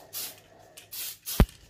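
Tamiya surface primer sprayed from a can onto a vehicle model in short bursts, three hissing sprays close by with a sharp knock near the end.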